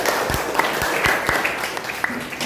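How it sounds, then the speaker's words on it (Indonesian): Audience applause in a classroom setting, dense steady clapping from a group with a few sharper individual claps, lasting a couple of seconds at moderate loudness. "Beri tepuk tangan kepada mereka."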